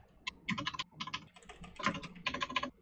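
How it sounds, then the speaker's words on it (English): Rapid clattering keystrokes on a computer keyboard, picked up through an online voice call, coming in quick irregular bursts with brief pauses between them, fairly close and moderately loud. "Mark, if you can mute, I think you're typing"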